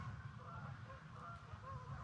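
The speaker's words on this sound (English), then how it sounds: "Oh, here come the geese." Geese honking along the Snake River in Grand Teton, a steady outdoor chorus of calls over wind-like background noise, moderately distant and continuous with no talking.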